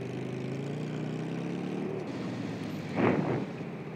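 Motorbike engine in a video game droning steadily as the bike is eased up a slope, a low hum with a brief louder burst near the end.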